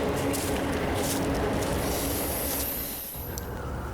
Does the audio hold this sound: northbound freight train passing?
yes